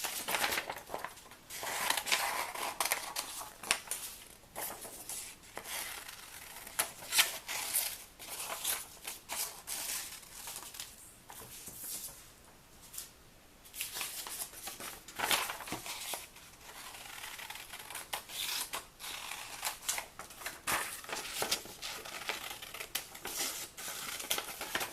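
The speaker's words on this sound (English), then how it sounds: "I'm going to go ahead and rough cut all of my poinsettia layers" Scissors rough-cut cardstock layers for a poinsettia Christmas card, with continuous close snipping, crinkling and paper rustling at an uneven pace.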